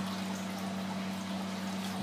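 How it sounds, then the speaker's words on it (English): Water discharges steadily back into an indoor pond from a pump-fed compact filter unit, a continuous even rush and trickle with a low pump hum underneath and no talk. "The water should start returning back to the pond."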